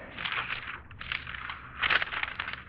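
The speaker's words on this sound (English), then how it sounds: "The sound of the flipping pages." Telephone book pages flipped in quick succession in an old radio drama, a steady papery rustle with a few louder sweeps, close and alone without speech.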